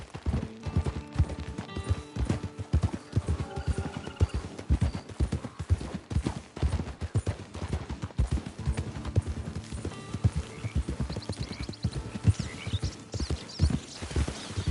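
Horse hooves clip-clop steadily in Red Dead Redemption 2 Online, a fast, regular rhythm of close hoofbeats over a continuous musical score, with an occasional faint whinny.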